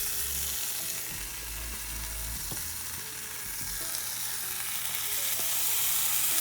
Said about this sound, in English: Now I'm gonna put the Canadian bacon on